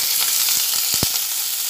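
Chopped onions hit hot oil in a wok and sizzle steadily, a dense, close, continuous frying hiss with a brief louder pop near the middle and no talking.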